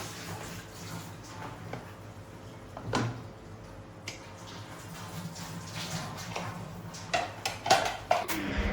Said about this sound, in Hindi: कुकर को चलाए हुए 7 मिनट हो गए। अब हम इसको इंशाल्लाह खोलते हैं।